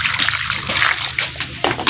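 Vegetables are washed by hand in a basin of water for sautéed vegetables with shrimp paste, giving close sloshing, splashing and trickling sounds in short irregular bursts.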